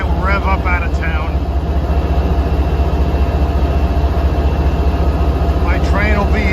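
A commuter train locomotive revs hard as it departs on a Boston-area line, a loud steady diesel drone with a pulsing low throb, and short warbling horn-like tones near the start and the end.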